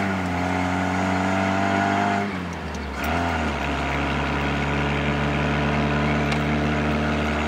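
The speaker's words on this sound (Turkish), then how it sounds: "Evet, şimdi aracımızın direksiyonuna geçtik. BMW 327'nin direksiyonundayız." A 1937–1954 EMW 327 Cabriolet, the Russian-built BMW 327, drives with a steady, loud engine drone throughout. A brief dip near the middle suggests a gear change before the engine settles back into a constant hum.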